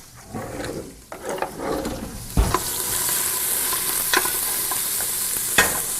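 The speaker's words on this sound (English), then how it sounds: "Give that a stir." Garlic frying in a pot with a loud, steady sizzle while a utensil stirs it, producing a few sharp scrapes and knocks against the metal, with no talk.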